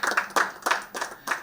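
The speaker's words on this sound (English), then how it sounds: "Can we give Gerardo a round of applause" A short run of about five evenly spaced hand claps at an annual conference, fairly close and crisp, with no voices over them.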